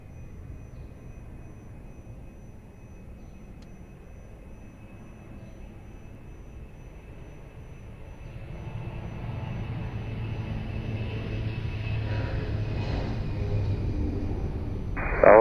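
An Air Portugal airliner takes off from runway 02 at Lisbon Airport, starting as a low distant rumble and swelling after several seconds into a steady, loud jet roar that holds to the end.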